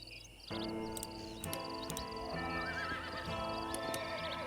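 A horse whinnies loudly over a steady ambient backdrop with hoof clops and faint chimes, the neigh sweeping and trilling for several seconds.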